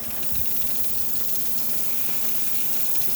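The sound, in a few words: steam hissing from Breville BES870XL espresso machine steam wand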